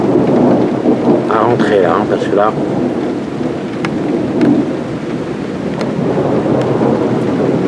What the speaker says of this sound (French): Dehors pour vous filmer au plus près les orages.